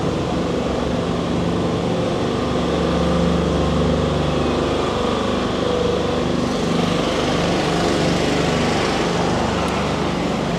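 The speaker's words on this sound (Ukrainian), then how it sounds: "кондюри, генератори тріщать дуже сильно" Power generators run along a street in Odesa, making a constant loud, rattling engine drone that fills the whole stretch without a break and carries no voices.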